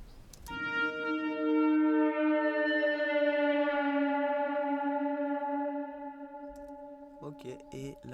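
A pitched-down synth tone with rich stacked harmonics swells in and sustains, its long reverb tail hanging for seconds before brief clattering noise at the end.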